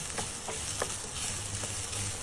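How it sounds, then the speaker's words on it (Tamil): Grated coconut fries in a pan for mutton curry, giving a steady sizzle with a few soft stirring scrapes. No one speaks. "தேங்காய் பூ கொஞ்சம் அதோடு சேர்த்து நல்லா ப்ரௌன் கலரில் வரணும் ப்ரௌன் கலரில் வறுத்து எடுக்கணும்"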